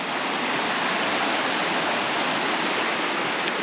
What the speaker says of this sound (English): And here's our good old Fall Creek again.